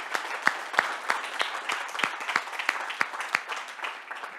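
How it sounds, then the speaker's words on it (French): Sharp, close claps ring out at an even, brisk rhythm during the MTL Tech Awards 2024 gala ceremony, with a softer bed of audience applause beneath them that carries on for several seconds. "On applaudit tout le monde aujourd'hui."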